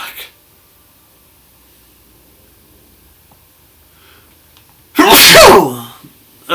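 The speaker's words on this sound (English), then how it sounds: "I want to sneeze, but I don't want to sneeze." A single loud, close sneeze erupts suddenly after several seconds of near silence, a sharp noisy burst lasting under a second.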